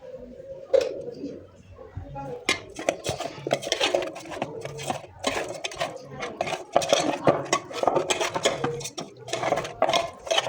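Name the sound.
coating fish with turmeric and chili in a pan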